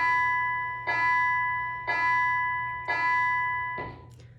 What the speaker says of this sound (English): No school, but the bell's still ringing.